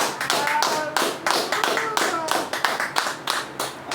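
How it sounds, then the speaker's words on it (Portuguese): Congregation at a church gathering claps in a round of applause, steady overlapping hand claps with voices calling out over them throughout. "Vamos dar uma salva de palmas para Cristo?"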